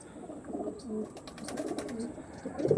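Tournament-quality pigeons coo softly in low repeated phrases, close by, with light clicks and scuffs around them and a slightly louder coo at the end.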